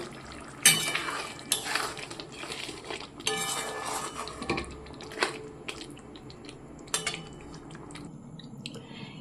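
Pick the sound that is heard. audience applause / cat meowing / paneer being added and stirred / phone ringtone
paneer being added and stirred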